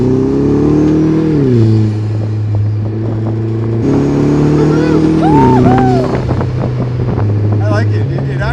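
A 2017 Vanderhall Venice three-wheeler pulls away hard, its engine rising in pitch through two gear changes, loud and close with wind rumble, while people talk and shout over it.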